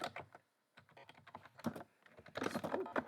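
Quick clattering keystrokes on a computer keyboard as a terminal firewall command is typed, irregular bursts close to the mic with a brief pause early on, then a denser flurry of keys toward the end.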